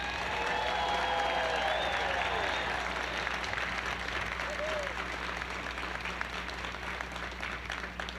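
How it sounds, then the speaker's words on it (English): A large audience claps continuously at NASA's street renaming ceremony honoring the Hidden Figures, a fairly soft, distant and unbroken wash of applause. "I'd like you to give a big round of applause for each of these members I'm about to mention"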